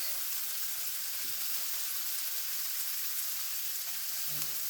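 Kielbasa sausage and onions frying in bacon grease produce a steady, close crackling sizzle that holds evenly throughout, with no talk over it.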